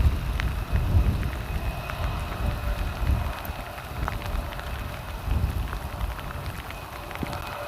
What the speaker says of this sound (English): you can see the windshields wiping off the rain